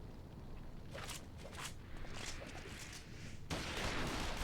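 Gunfire in a Final Fantasy XIV: Stormblood cutscene, a few sharp shots cracking over a loud, dense wash of battle noise, ending in a sudden heavier burst.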